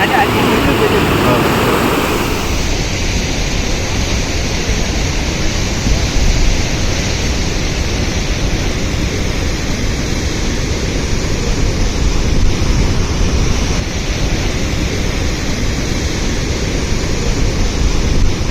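The Malaprabha river overflowing at Kolachi dam gives a loud, constant roar of rushing water, steady and unbroken from start to finish.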